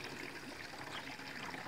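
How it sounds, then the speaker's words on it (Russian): Liquid streams into a sprayer tank as a short, steady gush with a bubbly splash, quiet and close, and no talking. "Готовится, заливает в бачок."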